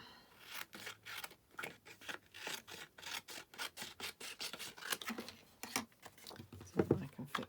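Scissors trimming card stock for a child's turtle-themed birthday card, a rapid run of short crisp rasping snips close by, fairly quiet, with a few soft handling noises near the end.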